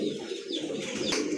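Caged pigeons for sale cooing softly nearby, a short low rolling coo repeated over a brief moment.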